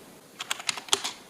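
Computer keyboard being typed on while entering FORTH code for an SPI-driven ILI9341 LCD: about six sharp, distinct key taps in an uneven rhythm over a faint background hiss, with no talk.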